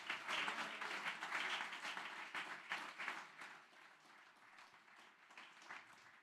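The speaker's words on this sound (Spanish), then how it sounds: "Dele ese aplauso a nuestro Dios." A church congregation claps together during a sermon, a quick burst of brisk applause that starts full and gradually thins and fades toward the end, fairly distant and soft.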